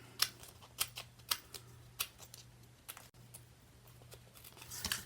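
Scissors cutting small pieces of paper card for a handmade card, a quiet, close run of crisp snips at irregular intervals over a faint steady hum.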